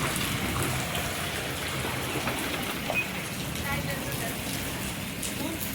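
Steady rain pattering on surfaces all around, a dense continuous wash with voices faintly mixed in underneath.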